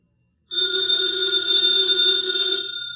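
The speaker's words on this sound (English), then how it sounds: "that phone bell means exciting adventure" A telephone bell rings alone after a brief silence, a bright continuous metallic ring held for about two seconds before fading into a soft hum, in an old radio drama.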